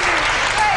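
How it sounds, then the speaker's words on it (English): A studio audience applauds for Kirsty, a young artist who sold her drawing, with loud, steady, dense clapping throughout. "And we'll give her a round of applause."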